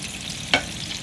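A hamburg steak patty fries in a pan with a steady, close sizzle, broken once by a short, sharp scrape or clatter partway through.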